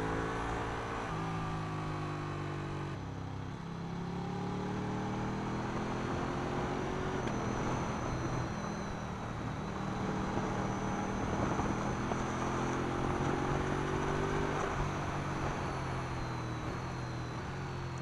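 A Ducati 1299 Panigale S sportbike heard from the rider's position on track, its engine note rising and falling steadily through corners and braking with auto downshifts, loud and continuous under heavy wind rush throughout.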